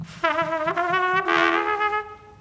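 A trumpet plays a loud, bright, open-toned sustained note with the player's lips set too far apart, rising slightly partway through and lasting about two seconds, close and alone.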